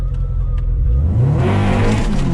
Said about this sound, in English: Honda Civic B20VTEC. Prachtige karretjie.